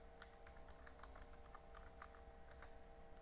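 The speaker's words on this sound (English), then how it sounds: "type in my password" Keys on a computer keyboard tap in a quick, irregular run of soft clicks while a password is typed, close by and quiet, with no voices.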